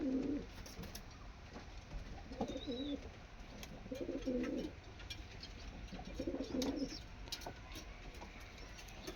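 Pet pigeons coo close by in three or four soft, rolling bursts spaced a couple of seconds apart, over a faint room background.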